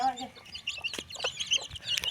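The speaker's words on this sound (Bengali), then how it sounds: "এই যে মুরগি বাচ্চারা কত সুন্দর খাচ্ছে" Young chickens cluck and cheep softly in scattered short calls, close by, with faint pecking sounds and a quiet voice at the start.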